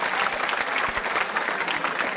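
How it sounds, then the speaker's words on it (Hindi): Applause from students at a Mahaveer Public School quiz show, a brief burst of steady, dense clapping from a group in a room, heard alone without talk. "तालियां नमन जी के लिए बजाइए"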